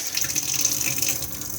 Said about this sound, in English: We need the water pump on so we can get water out of the taps